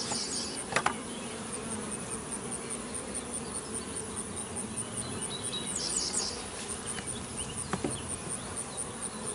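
Honey bees hum in a steady, dense buzz from a small hive infested with wax moth larvae, with a few brief clicks and knocks nearby.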